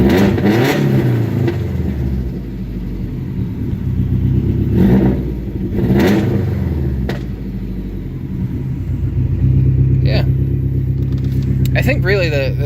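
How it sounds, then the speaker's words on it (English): Car engine idling low, then revved several times, each swell rising and falling back to a rumbling idle, with a person talking over it in places. "so let me give it a little rev."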